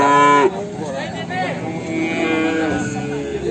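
Cattle moo loudly and close by at a calf market in Ambarketawa, one drawn-out bellow followed by further lowing calls, with other animals and crowd noise around them.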